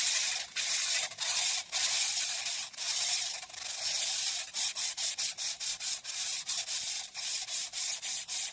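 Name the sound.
sanding a crankshaft with sandpaper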